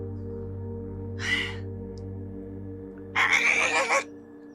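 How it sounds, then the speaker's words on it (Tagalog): A bird calls outdoors twice, first a short raspy cry and then a longer harsh one, both clear and fairly near, over a steady low droning hum. "Isang ibon lang pala."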